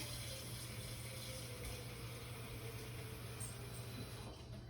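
Water runs steadily into a canning pot being topped off while kale is canned, a faint continuous pouring and hiss with no talk over it.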